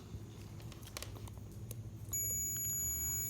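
A multimeter on continuity gives a sustained, steady electronic beep that starts suddenly partway through while its probes test the stator wire of a 2006 Yamaha YBR 125 motorcycle, after quiet handling noise.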